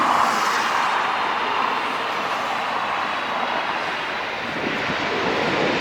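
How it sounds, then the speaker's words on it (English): A four-engine airliner lands with all engines in reverse thrust at LAX, giving a loud, continuous broadband roar that stays steady and close throughout, with no talk over it. "All 4 engines, reverse thrust."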